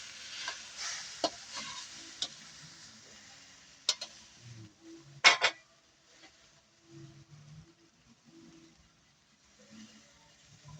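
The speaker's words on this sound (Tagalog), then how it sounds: "lalagyan natin siya ng egg. Halo masarap." Egg being stirred into sautéed bitter melon (ampalaya) in a pan, faint scraping and soft sizzle in short bursts, quiet and close.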